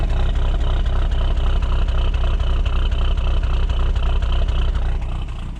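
A cold 1997 Honda CR500R two-stroke motorcycle engine runs steadily right after a kickstart, choke still off, giving a loud, continuous low rumble close by that dips slightly at the very end.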